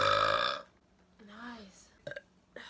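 A loud, drawn-out burp opens with strong harmonic tone, then fades into quieter vocal sounds and brief clicks in a quiet indoor setting.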